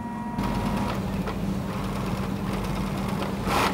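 Sewing machine stitching a pair of motorcycle boots, a steady rapid mechanical whir with a constant low hum, close and continuous.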